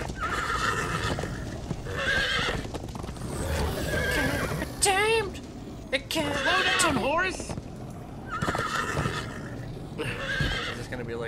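Several horses in the video game Minecraft: Story Mode whinny loudly in repeated rising-falling neighs over clip-clopping hooves, with people talking over the game sounds.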